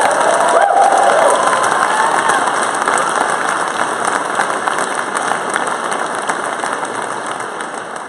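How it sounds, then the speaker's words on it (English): A conference summit audience cheers and claps loudly and continuously, a dense crowd roar of applause that slowly tapers over several seconds. "I want you guys to get really loud, get amped up, clap it up one time"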